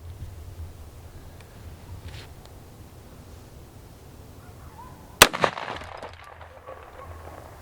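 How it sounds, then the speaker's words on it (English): A .44 Magnum revolver fired once at an outdoor target, a single sharp loud crack partway through followed by brief rattling impact and debris noise, with quiet ambient hiss before and after. "Can it stop the 44 Magnum?"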